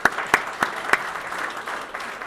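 Event sponsors at the FDU Family Business of the Year 2022 event get a round of applause from the audience, beginning with a few sharp, distinct claps before settling into a soft, even patter.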